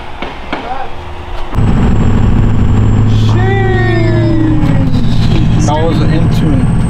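A car engine turns over and catches at about one and a half seconds, then runs with a steady loud drone. Voices talk over the running engine, and one rising whine sweeps past.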